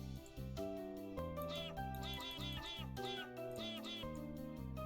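Cartoonish meows from a cat in the video game Purrgitory, repeated in short bursts over a steady, loud tonal music bed.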